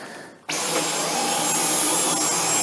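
Dyson V10 cordless vacuum cleaner switching on abruptly and running with a steady loud whooshing whine while its head is swivelled, close by, no voices.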